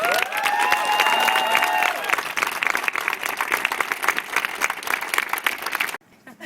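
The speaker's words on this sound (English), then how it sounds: "can I just get like a really big round of applause for that?" A protest crowd at Yale and New Haven City Hall bursts into a big round of applause with cheers and whoops, dense clapping that runs several seconds before cutting off abruptly.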